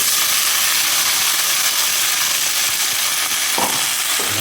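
Onion, mustard seeds, cumin and chana dal frying in hot oil give a loud, steady, close sizzle that runs unbroken throughout, with a brief utensil scrape near the end.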